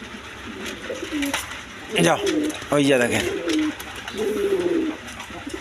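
Pigeons, healthy birds kept in pairs with eggs and chicks, cooing in rhythmic bursts close by while someone talks over them.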